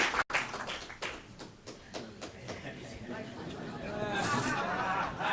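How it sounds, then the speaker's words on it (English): A few scattered, fairly faint hand claps from an audience at a civic association candidates forum in Palm Beach, thinning out under low room chatter and murmuring voices. "Please join me in a round of applause for the candidates"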